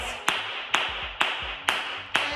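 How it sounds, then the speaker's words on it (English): Flamenco palma clara, a brighter, higher-pitched hand clap: five crisp, evenly timed claps heard up close, with faint low thumps between them. "And now we're gonna do a palma clara, which is a higher pitched"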